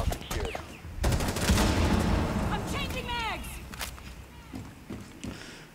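Bursts of rapid automatic gunfire in Rainbow Six Siege crack close and loud, with scattered single shots and impact noises in between. Someone talks during the shooting.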